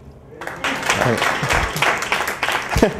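Audience applause at a live comedy show, a dense wash of clapping that swells after a quiet opening and stays steady and close throughout, with a voice briefly rising over it near the end.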